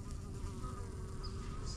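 Honey bees buzz near their hive among almond orchards in a dense, continuous drone, with a few individual bees whining close by.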